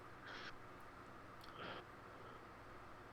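A morning ambience sound effect plays faintly over steady background hiss, with two brief crow-like bird calls.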